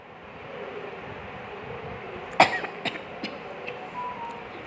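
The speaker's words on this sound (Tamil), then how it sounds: "கைஸ் கொஞ்சம் இருமல் தான் கைஸ்" One sharp cough bursts out close to the microphone midway, followed by a few fainter throat catches, over a low steady background hiss.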